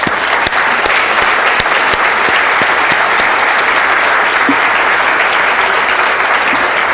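A room full of people applauds steadily at a city council meeting, a dense, even wash of clapping that holds at full strength for the whole stretch with no voices over it.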